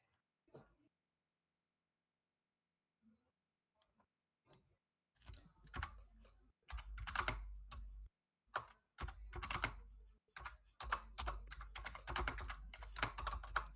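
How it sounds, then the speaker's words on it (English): Loud computer keyboard typing in rapid bursts of sharp clicks, near and dominant after a quiet start, with brief pauses between flurries; a few faint knocks come first. "Very loud keyboard."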